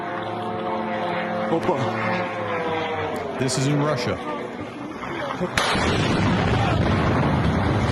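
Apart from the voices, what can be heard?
incoming drones and missiles over Russia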